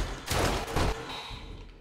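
Gunfire from a pistol or AK rifle in the survival video game 7 Days To Die: two loud bursts of shots close together, then a fading tail, with no speech.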